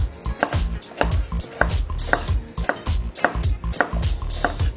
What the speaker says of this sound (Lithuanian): Moliūgą pjaustome kubeliais, tokiais irgi pakankamai dideliais.